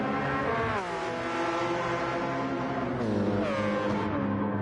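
A Porsche RSR race car in the Gran Turismo 7 video game, its engine howling loud and close with rising revs, a drop in pitch at each gear shift, then climbing again, with no talking.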